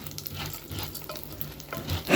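Pasta fries in a pan with a steady close sizzle while a utensil stirs and scrapes it continuously, and the sizzle swells louder at the end.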